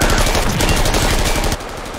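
Dense automatic gunfire from a Squid Game episode, loud and continuous rapid bursts filling about a second and a half before dropping to a quieter tail of scattered shots.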